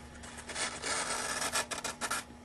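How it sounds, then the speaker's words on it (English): Hand scraper paring the wooden lining of a violin top plate, a close series of soft rasping strokes with an uneven rhythm and a quiet hum underneath. "To do that, I'll be using a scraper."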